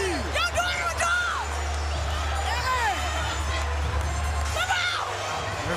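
A PFL 4 MMA arena crowd cheers and whoops in a steady, loud roar of voices, with scattered shouts rising above the hubbub.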